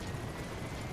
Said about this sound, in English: Support helicopter